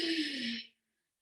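Ujjayi pranayama breath with the mouth closed and the throat restricted: one smooth, moderately loud breathy exhale with a low hum beneath it, lasting about half a second before silence.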